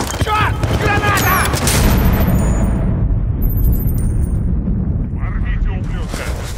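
A grenade blasts in the Xbox shooter Battlefield: Bad Company 2, a loud booming roar that rumbles on for seconds amid chaotic battle noise, with shouting voices mixed in.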